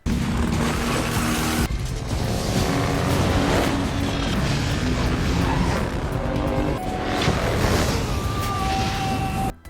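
Ghost Rider's motorcycle tearing along at supersonic speed in a film scene, a continuous loud roar layered with crashing, smashing debris and booming impacts, dense and unbroken until an abrupt cutoff.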